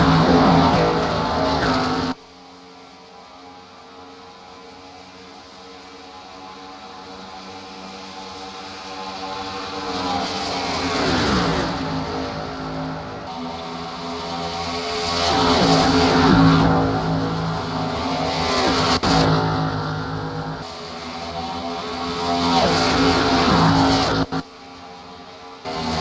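Stock cars in an MG Cup Series race at the Brickyard 400 roar past at over 200 mph, several loud engine flybys rising and falling in repeated waves.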